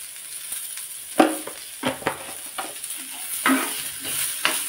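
Onions frying in a pan with salt for an onion thokku, a soft continuous sizzle cut by several close scraping strokes of a spatula in an uneven rhythm, with no one talking.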